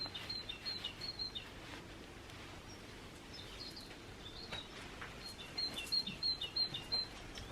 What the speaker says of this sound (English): Listen to that bird song, how utterly glorious.